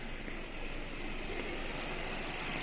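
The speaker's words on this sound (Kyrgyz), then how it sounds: "Алгач мотордун звугуну, үнүнү сиздерге угузганга аракет кылайын, мынакей." A car engine idles steadily with a dense, even mechanical rumble and hiss that holds constant throughout, recorded close up under the open hood of a used car, with no voices.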